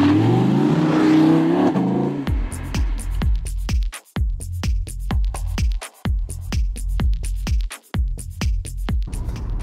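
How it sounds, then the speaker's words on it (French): A Mercedes-AMG coupé with its exhaust in sport mode roars loudly as the engine revs up, then breaks into a fast, steady series of sharp exhaust pulses and crackles close by. "vooral met de uitlaat in sportmodus."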